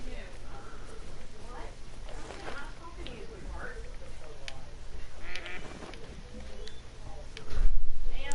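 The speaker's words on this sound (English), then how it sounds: "Warning call for a duck." Duck warning quacks in the Hunter: Call of the Wild hunting game, a few scattered calls heard faintly under someone talking over a steady outdoor ambience.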